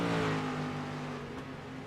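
Street stock race cars battling at Lakeland in the iRacing sim, giving a steady, loud engine drone with a strong harmonic tone that eases slightly as it holds, with no voices.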